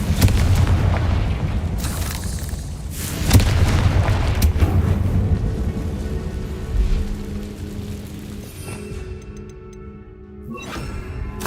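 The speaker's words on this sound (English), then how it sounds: "Confringo!" Confringo fire spell from Hogwarts Legacy, several heavy booming blasts with crackling debris in the first half, dying away into ringing magical chimes and game effects near the end, loud and close.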